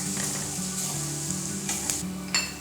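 Spices and powdered kasuri methi sizzle loudly in a pan over a high flame for a cheese angoori sabji. The frying hiss is steady throughout, with a few sharp clinks and scrapes of stirring near the end.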